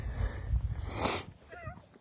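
A house cat gives one short, close meow after some soft rustling and handling noises.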